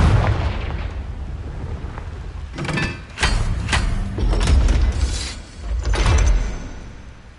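A fire spell's explosions in Hogwarts Legacy, a few sharp bursts spaced across a few seconds, each flaring loud then fading under a rumbling game ambience.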